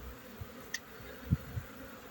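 Honeybees flying at the hive entrance as foragers bring in pollen during a strong spring build-up: a faint, steady insect buzz with a few soft bumps, quiet and without talk.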